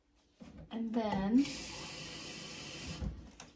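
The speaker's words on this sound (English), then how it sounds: "I'm going to add just a little bit of water to this because I think I want mine just a little bit thinner" Water pours steadily from a tap into a smoothie mix of chia, hemp and flax meal, a continuous hissing stream lasting a couple of seconds after a person speaks briefly.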